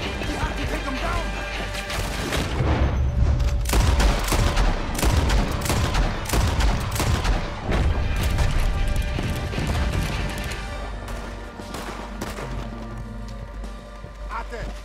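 Dense, rapid bursts of gunfire and crashing impacts fill a Red Dead Redemption 2 battle nonstop, loud and chaotic, with shouting voices mixed in.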